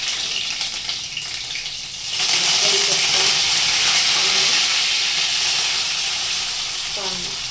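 Chopped garlic dropped into hot oil while cooking a potato bhaji: a loud, steady sizzle surges up suddenly partway through and stays strong and hissing to the end.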